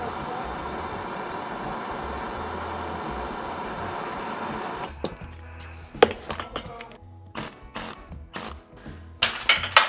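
A ratchet working on the strut bolts of a Ford Ranger during a leveling kit install, with a steady hum giving way to sharp, irregular metallic clicks and clanks up close.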